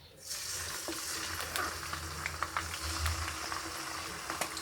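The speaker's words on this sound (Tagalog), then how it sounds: "maglulutuin na po natin ang ating chicken" Chicken frying in a pan for a home-cooked Filipino meal, a steady close sizzle with scattered pops and crackles throughout.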